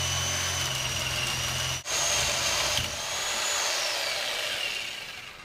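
A power jigsaw cutting through an old metal drum trap, a steady buzzing saw drone close by with a short break near the start, then a whining cut that slowly fades, no talking.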